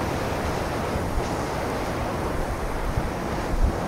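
Steady broadband rush of water pouring down a waterfall at Anjuveedu falls near Kodaikanal, loud and continuous with some wind buffeting, no voices.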